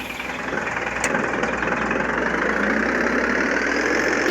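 A vehicle engine idles steadily in the Roblox game RV Cooked, a low continuous hum that holds at an even, moderate level with no talking over it.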